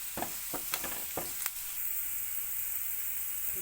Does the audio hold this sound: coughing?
no